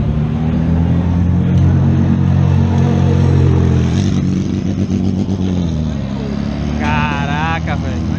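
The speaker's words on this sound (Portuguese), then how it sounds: "Porschezinha aí, ó." A Porsche race car at the Petit Le Mans at Road Atlanta roars past with a loud, steady engine drone, and someone speaks excitedly close by over it.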